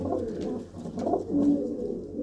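Several fancy pigeons, red, blue and mottled birds kept as a hobby flock, coo softly and continuously nearby in a steady low murmur with overlapping calls.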